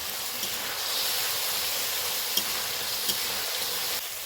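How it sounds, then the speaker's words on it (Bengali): Potatoes fry with spices in a pan for a fish curry, giving a steady close sizzle and hiss with a few faint stirring clicks and no talk. "এই আলুর সঙ্গে এখন এই মশলাগুলোকে ভালোভাবে কষিয়ে নেব"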